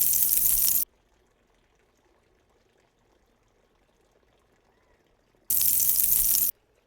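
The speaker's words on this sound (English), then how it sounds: "We're going to continue to stir and bring that to a boil." Milk being stirred in a pot and brought to a boil, heard as two short loud pouring, rushing bursts at the start and end with near quiet between.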